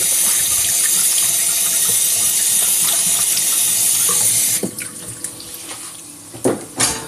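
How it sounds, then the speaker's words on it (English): Hands are washed under a running kitchen tap during meatball making: a loud, steady rush of water for about four and a half seconds, then it cuts off, leaving a few light clinks and drips. "I'll just wash my hands real quick."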